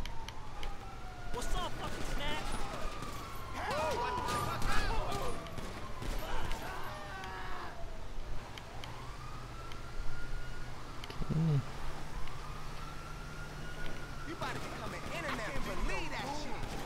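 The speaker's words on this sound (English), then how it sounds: "Looks like I got a police car coming up." A police siren in GTA Online wails in long rising and falling sweeps during a motorcycle club jailbreak mission. It stays moderately loud over engine rumble and traffic while someone talks throughout.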